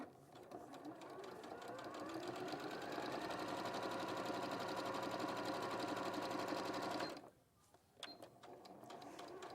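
Close and fast, a sewing machine stitches a quarter-inch seam in a steady rattling run for about seven seconds, then stops abruptly, followed by a brief mechanical clunk.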